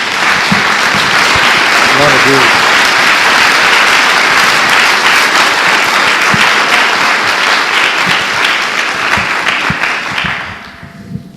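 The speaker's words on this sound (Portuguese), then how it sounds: "Dê uma salva de palmas a Jesus." Loud, sustained applause from a church congregation fills the room for about ten seconds, with a voice calling out over the clapping before it dies away.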